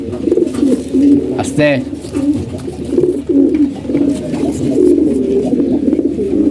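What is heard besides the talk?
pigeons cooing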